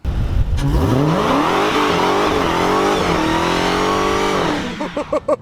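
A supercharged 2020 Dodge Charger Hellcat Widebody roars and climbs through the revs in a hard acceleration with its tires spinning, loud and close, ending in a few sharp bursts of throttle.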